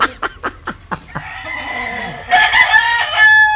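Gamecock roosters at a rooster farm cluck in a quick string of short calls, then loud crows ring out nearby, overlapping and drawn out.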